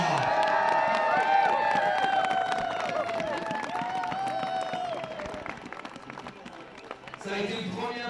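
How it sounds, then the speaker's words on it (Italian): A crowd at a podium ceremony in Champagny cheers, whoops and applauds a fourth-place finisher, loud and sustained, while an announcer speaks over the noise. "I would like a big applause for Kevin Hauser."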